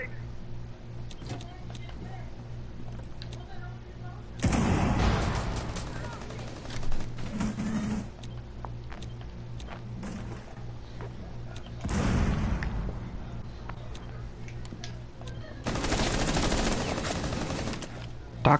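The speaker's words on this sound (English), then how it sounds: "So I think he's trying to shoot you with his shotgun." Shotgun blasts in Rainbow Six Siege come in three broad bursts of loud gunfire, separated by quieter stretches of game ambience, with voices talking throughout.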